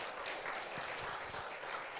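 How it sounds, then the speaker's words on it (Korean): An audience claps in thanks to two lecturers at a church family-building seminar, a faint, continuous patter of many hands with no talking. "감사의 박수로 우리들의 마음을 표현해 주시면 좋겠습니다."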